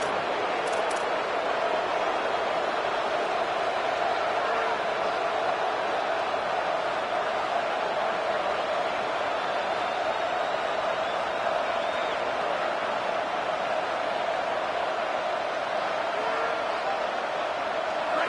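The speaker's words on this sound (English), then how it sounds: "This crowd ready to make its presence known." Steady stadium crowd roar from a college football video game, a dense continuous wash of distant voices holding at an even level throughout, with faint commentary mixed beneath.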